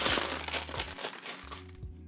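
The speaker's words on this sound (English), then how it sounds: "I have some pea pebbles here which I rinsed ahead of time to remove debris that I'll use to conceal the plastic" Rinsed pea pebbles are spread by hand into a thin layer over plastic in a small aquagarden pond, giving a close, steady gritty crunching and shifting rattle that fades near the end.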